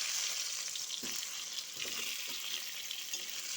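Parboiled potatoes fry with cumin in oil in a pan, giving a continuous, fairly quiet sizzle with soft stirring scrapes throughout.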